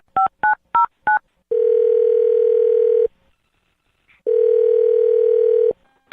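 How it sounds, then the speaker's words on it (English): Four short touch-tone beeps from a phone keypad being dialed, followed by two long steady ringback tones separated by a pause, loud and clean with no talking. "I'm going to dial her phone number right now"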